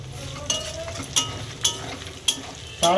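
Spices sizzle in a hot pan with a steady crackling hiss, while a utensil scrapes and stirs in several sharp strokes.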